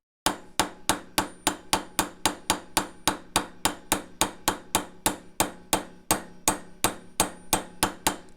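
Sharp metallic hammer strikes during a thermal webcam build, about two dozen loud, close blows in a fast, even rhythm, each ringing briefly before the next.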